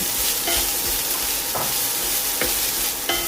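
Grated coconut being stirred into an onion and egg thoran in a frying pan, with a steady sizzle underneath and several scraping stir strokes spaced through the clip, close and clear with no talk.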